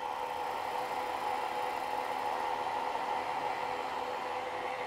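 A very sharp woodturning tool shears a fine shaving from wood spinning on a lathe in a workshop, giving a steady, close, even hiss that runs unbroken over a constant machine drone.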